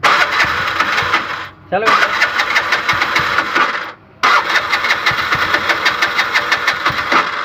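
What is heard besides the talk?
Bajaj BS6 auto rickshaw engine cranking, failing to start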